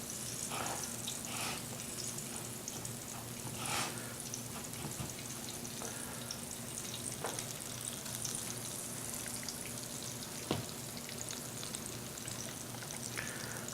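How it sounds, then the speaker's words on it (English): Breaded green tomatoes coated in flour, egg and panko fry in hot oil, giving a steady, close sizzle with scattered pops and crackles throughout and no talking. "So we're going to continue frying our tomatoes."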